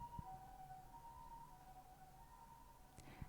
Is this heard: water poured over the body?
no